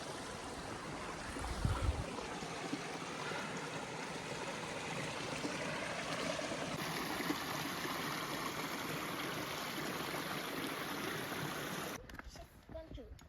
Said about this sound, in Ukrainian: О, тут ще невеличкий водоспадок, зараз покажу.